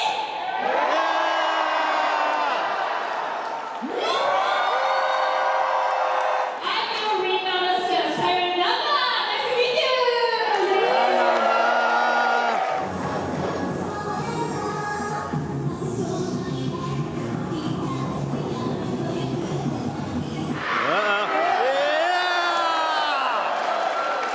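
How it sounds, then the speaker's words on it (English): A crowd at a Tokyo Joshi Pro Wrestling show in Texas cheers and whoops loudly in repeated swelling bursts, filling the hall with overlapping shouts. "let's hear the loudest cheer you've got all together"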